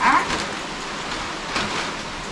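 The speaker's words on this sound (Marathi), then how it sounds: "लय पाऊस आहे, भरपूर पाऊस आहे रे बाबा." Heavy rain pours down in a steady, dense hiss, with slight swells in intensity and no other clear sounds over it.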